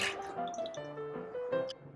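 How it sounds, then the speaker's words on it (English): Water draining and dripping from a batch of lala clams in a kitchen, with close, uneven trickling and drips and a few clinking sounds over a short stretch. "We're gonna drain our clams and we're ready to cook."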